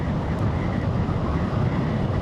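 A small scooter engine runs in a smooth, steady, low rumble with wind noise, heard from close by while riding.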